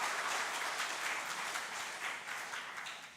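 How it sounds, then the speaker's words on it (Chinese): A church congregation claps together in welcome during a service, a broad, continuous wash of many hands from across the room, fairly soft and gradually thinning toward the end. "我们一同拍手来欢迎他们。"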